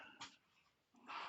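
A new puppy whimpering faintly in the background of a quiet room, two short soft whines separated by a pause.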